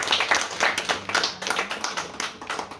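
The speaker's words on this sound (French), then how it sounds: "On peut l'applaudir encore une fois." Clapping from the audience at a literary conference for young authors, honoring a young writer named Mathieu; a small crowd claps briskly and close by, fairly even, with no one talking.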